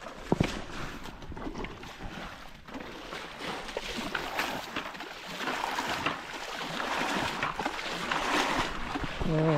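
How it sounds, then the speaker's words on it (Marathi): Water is bailed out of a small pond by hand, giving irregular splashing and sloshing close by, mixed with wind noise. "हे बघा आता उपसतोय आम्ही"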